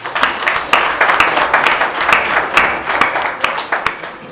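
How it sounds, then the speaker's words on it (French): A crowd at a coordination installation ceremony in Dassa-Zoumè claps loudly and steadily, dense applause close and continuous throughout. "Acclamez pour vous-même."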